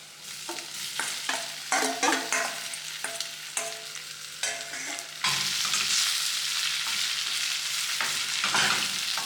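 Seasoned shrimp sautéing with garlic and chopped scallion for Jamaican pepper shrimp, first a stretch of clattering stirring scrapes over a sizzle, then a louder, steady frying hiss as the shrimp go into the hot pan, close, no voices.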